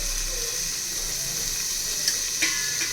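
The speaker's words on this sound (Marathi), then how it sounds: "यावरती थोडंसं मी तेल टाकते आणि कांद्याला लालसर असं भाजून घ्यायचं आहे" Onions frying in a little oil in a pan for chicken biryani, a steady soft sizzle with a couple of small pops near the end, close and continuous, no talking.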